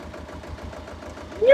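A tractor engine reversing in a muddy field idles with a low, even, rapid thumping pulse, fairly quiet and steady, before a brief louder rising tone right at the end.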